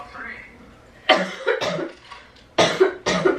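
A person fakes coughs as a prank, with two clusters of loud, harsh double coughs close to the mic, separated by a short pause and a faint breathy lead-in.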